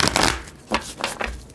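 A deck of tarot cards gets a quick close shuffle, three short papery riffles in rapid succession.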